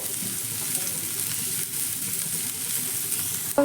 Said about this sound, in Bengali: তেলের মধ্যে দিয়ে দিচ্ছি একটা মিডিয়াম সাইজের কুচুনো পেঁয়াজ প্রথমে পেঁয়াজটাকে একটু নাড়াচাড়া করে ভেজে নেব